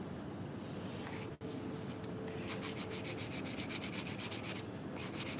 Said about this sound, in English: I am just sanding the faces of the handle and the little shoulders